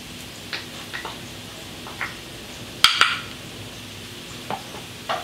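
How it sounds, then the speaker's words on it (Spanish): Garlic frying in a pan for zucchini pasta, a faint low sizzle under a series of soft utensil clicks and taps, with one sharper metallic knock midway, no talk. "Y aquí mismo voy a agregar ajo."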